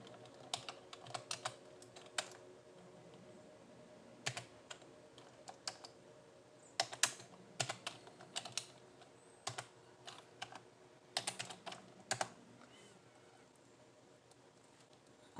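Typing on a computer keyboard, with sparse irregular key clicks in small clusters, quiet and close against a soft background hum and no talking.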